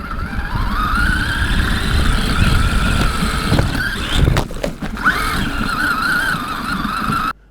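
Remote control toy car driving with a small action camera mounted on top, a high whining electric motor that rises and falls, with rough rolling and bumping noise and a few jolts midway.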